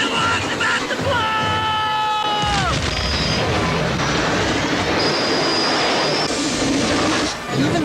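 A steam train from the Back to the Future film thunders along in a dense, loud roar, with high squealing tones that rise and bend, a heavy rumble throughout and film effects layered over the top.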